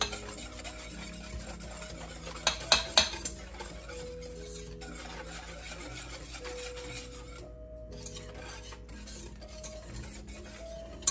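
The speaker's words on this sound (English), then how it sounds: "Making sure I got all of my stuff stirred up and whisked and combined." Homemade chocolate pie filling being whisked in a pot, with quiet continuous scraping and rubbing strokes and a few louder clinks of the whisk against the metal, close and soft with no voices.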